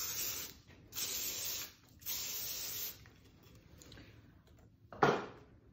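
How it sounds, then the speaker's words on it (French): A can of powdery texturizing hair spray is sprayed onto a braid in two hissing bursts of under a second each, followed by a softer stretch of rustling and a single sharp click or tap near the end. "Et avec mon spray un peu poudré, hop, je vais la texturiser un peu."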